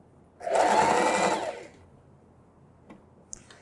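A sewing machine runs one quick burst of stitching across a dish towel for about a second, loud and close, followed by quiet and a couple of small clicks.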